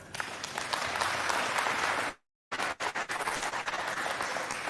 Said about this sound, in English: so, that's a clap. That's a clap.